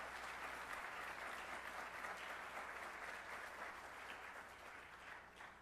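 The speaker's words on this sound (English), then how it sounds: "We should give them a round of applause." An audience at a spring closing college meeting claps in a steady, sustained round of applause that stays fairly quiet and even throughout, with no talking over it.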